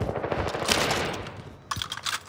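Rapid SMG gunfire crackles in a Call of Duty Warzone Rebirth match, with a long dense burst, a brief lull and then a second sharper flurry of shots at close range, with no talking.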